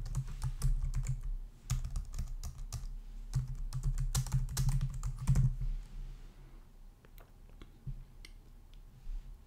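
Someone types a folder name on a computer keyboard with rapid bursts of clicking keystrokes, busy at first and then thinning to a few scattered taps.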